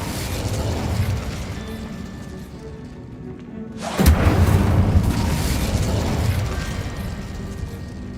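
In Hogwarts Legacy, a cast Incendio fire spell lands as a sudden booming whoosh a few seconds in. A roaring burst follows and stays loud, over a steady game soundscape.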